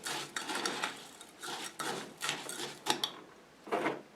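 Utensil clinks and scrapes against a container as a homemade room freshener mixture is stirred, arriving in short irregular bursts at close range with no talking.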